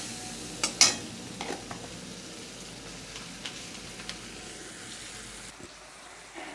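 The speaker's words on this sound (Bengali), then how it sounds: "এবার মশলাটাকে ভালো করে তেল ছাড়া অবধি কষিয়ে নিতে হবে।" Spice paste with salt fries in oil as it is stirred for a potato and pumpkin curry, a soft low sizzle under a few clanks and scrapes of a spoon against the pan, fairly quiet and close.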